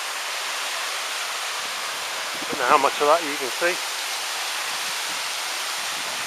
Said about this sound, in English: That's me right in behind the waterfall now.